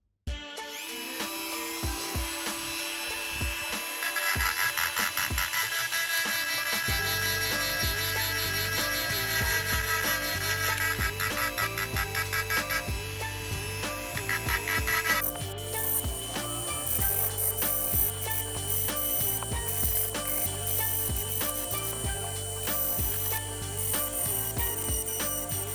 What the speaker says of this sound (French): j'utilise cette brosse là, cette petite fraise là